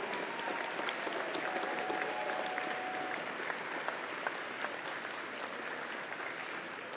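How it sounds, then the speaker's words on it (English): Crowd at an FIM District robotics competition at Lake Superior State University applauds the competing teams, a steady wash of clapping from a large arena audience heard from some distance, with faint cheering mixed in. "give a big round of applause for all the teams that are competing here at Lake Superior State University"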